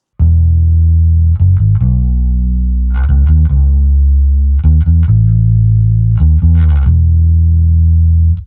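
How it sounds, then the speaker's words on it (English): An electric guitar strums loud, shimmering chords with a lush, doubled chorus sound, ringing out between quick rhythmic strums. "for the last effect, I have a chorus, which is useful for a lot of 80s rock pop songs"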